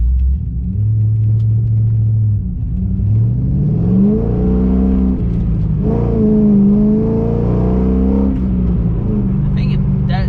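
An LS2-engined car with new headers pulls hard in first gear, its deep engine rumble climbing and revving close by inside the cabin. Someone speaks over the engine.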